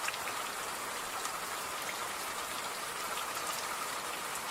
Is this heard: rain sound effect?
yes